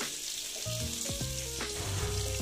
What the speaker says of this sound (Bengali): এই দেখো পটলটা প্রায় ভাজাই হয়ে গেছে।